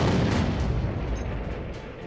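German 88mm Flak 18 anti-aircraft gun firing, a heavy booming blast with a long rumbling decay that fills the whole clip, loud and deep with no voices.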